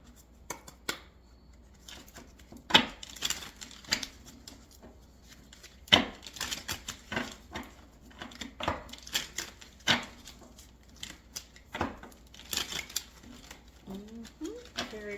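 Tarot cards are shuffled by hand in irregular bursts of soft slaps and riffling taps, close by, with a brief voice near the end.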